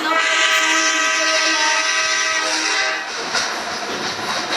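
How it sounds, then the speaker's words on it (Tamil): A moving train sounds a long, loud horn blast that holds steady for about three seconds, then cuts off, leaving the rumble and clatter of the cars rolling along the track. "இப்போதைக்கு நம்ம ட்ரெயினில் போயிட்டுருக்கோம்."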